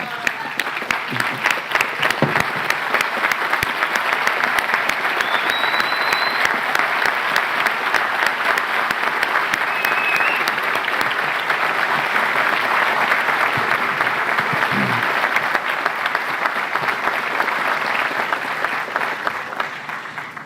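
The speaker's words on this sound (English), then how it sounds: "So please join me in giving him a standing ovation for his great service and recognize all the great things he has done." A large crowd at a UC San Diego School of Medicine commencement ceremony gives a standing ovation, with steady, dense applause sustained throughout at full volume.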